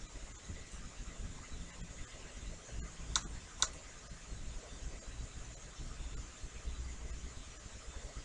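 A computer mouse gives two sharp, distinct clicks close together partway through, over a quiet background hiss.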